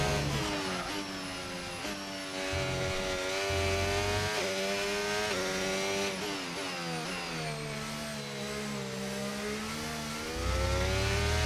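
F1 race car engine in the F1 25 video game, a loud sustained high-pitched whine rising and falling through gear changes and revs as the car corners through a hairpin, with no talking.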